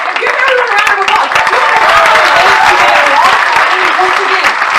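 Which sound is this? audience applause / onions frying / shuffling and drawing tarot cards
audience applause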